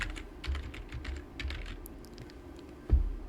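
Keys clatter on a computer keyboard as a file name is typed, a quick run of soft clicks close by with a firmer tap at the end, no voices.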